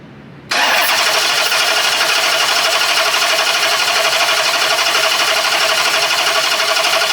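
A 2013 Dodge Charger 5.7 Hemi with a misfire cranks over on the starter after a brief quiet start, a loud, steady, rapid mechanical whir that continues without catching.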